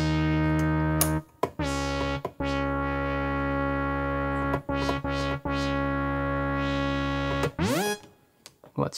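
Brass-like synthesizer patch with the envelope attack turned up, made from detuned sawtooth and triangle oscillators through a resonant filter; loud held chords that swell in, separated by brief gaps, playing alone without talk.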